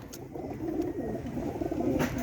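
Pigeons of a Bihari-type breed cooing close by in a low, continuous throaty murmur, with a few faint higher chirps above.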